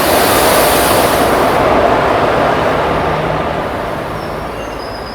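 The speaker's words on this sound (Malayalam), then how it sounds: "അപ്പോൾ നമ്മുടെ 56-317 ട്രെയിൻ ഇതാ വരികയാണ്." A crowded passenger train hauled by an Arakkonam shed WAP4 electric locomotive rumbles loudly and steadily at Chowara railway station, a broad wash of rail noise that eases slightly toward the end.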